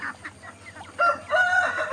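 Chickens crowing and clucking among poultry at a village farm with muscovy ducks and ducks, close, loud calls that come in overlapping bursts over a low steady hum.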